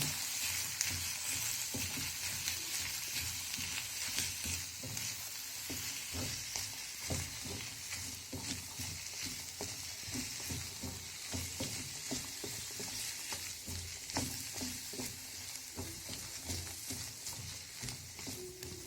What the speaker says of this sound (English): We add our green peas.